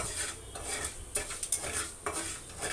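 A spoon scrapes and stirs urad dal frying in a metal pan, making irregular close clinks and scrapes over a faint sizzle, with no voices.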